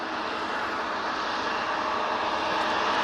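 A KLM airliner departing Manchester Airport for Amsterdam Schiphol gives a steady, broadband jet roar that holds loud and even throughout, with no talk over it.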